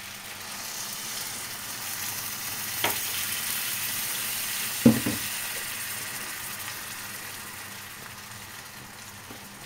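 White wine added to a hot pan of squid for black rice, a steady soft sizzling hiss with a couple of brief clinks of a utensil against the pan, and no voices.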